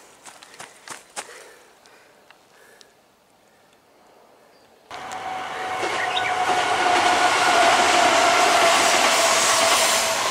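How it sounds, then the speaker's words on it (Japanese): A train rolls past in the rain near a seventh-century burial mound, its loud steady rumble and wheel noise rising abruptly and holding close after a few seconds of quiet clicks and rustling. "また電車が通りましたけど"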